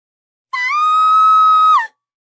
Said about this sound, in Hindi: लाल बाल वाली चुड़ैल को देखकर मुकेश की मां बहुत जोर से चिल्लाती है।